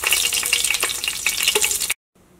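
Fennel seeds and spices frying in hot oil for a chicken biryani make a loud, dense, close sizzle, spattering steadily before cutting off abruptly near the end into near silence.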